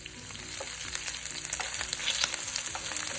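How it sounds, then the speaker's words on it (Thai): Streaky pork belly fries slowly in its own rendered oil over low heat, giving a steady, close crackling sizzle with scattered sharp pops throughout and no voices. "เหมือนเจียวหมูค่ะ ให้น้ำมันออกมาแล้วก็ให้หมูกรอบนะคะ"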